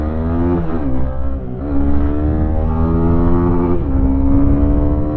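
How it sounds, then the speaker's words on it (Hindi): A Honda CB300R motorcycle accelerates, its exhaust giving a loud, close, continuous engine note whose pitch climbs and dips in a few surges. "लिटरली इस बाइक का एग्जॉस्ट नोट इतना प्यारा ना"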